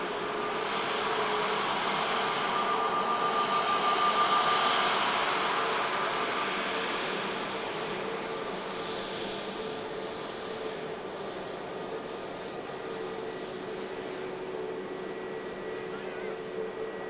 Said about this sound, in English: EasyJet from Amsterdam, just about to taxi past us